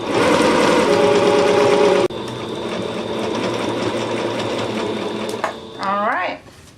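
A sewing machine sews a small gathering stitch on a dress, a loud fast whir that slows and stops midway, followed by quieter handling sounds and a person talking.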